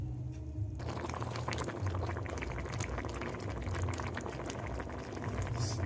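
Leaf stalks bubble in a pot of boiling water, a dense, continuous rolling simmer with steady popping and gurgling, close and alone throughout.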